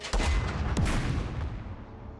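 Gunfire and heavy cannon shots aimed at tanks in the war strategy game Second Front, an opening blast followed by another sharp impact and a long rumbling decay, loud and with no voices.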